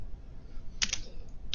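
A few quick keystrokes on a computer keyboard enter a command in a Debian Linux terminal, a short burst of clicks followed by a single later tap against quiet room noise.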